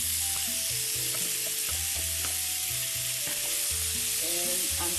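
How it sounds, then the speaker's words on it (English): Okra, green peppers, green onion and zucchini sauté in a pan with a steady loud sizzle throughout, under background music with tonal melody lines, no voices. "And I'm just going to saute them. Stir them around real good."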